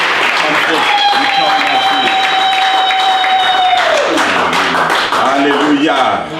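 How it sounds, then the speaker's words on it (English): A church congregation at a home group service claps hands together, a dense continuous patter of clapping close by, with talk and a sustained tone running over it before it thins out. "Let's clap our hands."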